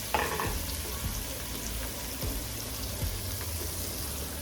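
Shrimp for a homemade seafood boil drop into a hot pan, setting off a steady wet sizzle with a sharp splash at the start and a few faint clinks, no voices.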